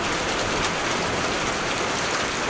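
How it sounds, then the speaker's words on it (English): Hail pelting a car lot under a tornado warning, a dense, loud, continuous rattle of impacts with no pauses and no voices. "Oh, there's the hail."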